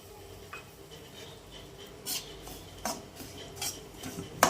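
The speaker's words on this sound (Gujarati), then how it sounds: "આપણે વચ્ચે વચ્ચે આ રીતે હલાવતા રહીશું અને સોજીને સરસ થોડો કલર ચેન્જ થાય ત્યાર સુધી શેકી લઈશું" A spoon scrapes and clinks against a pan as semolina roasts in ghee for sweet ghughra filling, with soft intermittent stirring strokes and a few sharper metallic taps, fairly quiet and close.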